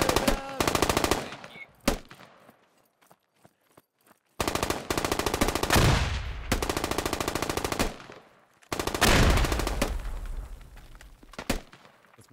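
Bursts of automatic gunfire and rapid rifle shots ring out in a forest battle in the Squad video game, loud and close, arriving in several long volleys separated by short lulls.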